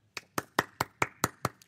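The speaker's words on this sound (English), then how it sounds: "We have to applaud that." Several people clap in a church service, about seven sharp, evenly spaced claps in quick rhythm, close and fairly quiet with no talking.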